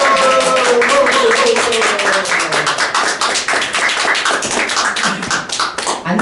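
An audience claps in applause to welcome a guest onto the stage, a dense, steady burst of many hands clapping together that carries on for several seconds.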